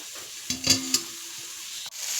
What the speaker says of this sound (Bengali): বাঁধাকপি ভাজা করেছি আমি